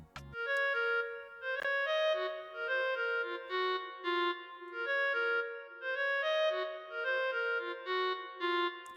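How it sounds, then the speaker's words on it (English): Software clarinet patch, BRS clarinet NUC from the Morphine synth, playing a smooth legato melody of sustained reedy notes in repeating phrases with slightly varying velocity, clean and alone after a short click at the start. "So this is the sound, BRS clarinet NUC."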